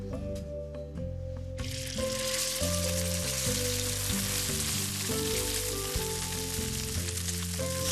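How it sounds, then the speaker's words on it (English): Fish frying in a hot oiled pan: a loud, dense sizzle bursts in after a couple of seconds and then holds steady, heard close, with music playing underneath. "Pan's nice and hot, just some oil. I never season my fish, I always season the pan."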